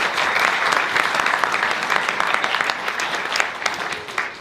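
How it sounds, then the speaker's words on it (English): Audience applause welcoming a speaker to the stage, a sustained burst of clapping from a crowd that stays loud and then tapers slightly near the end. "Put a round of applause out."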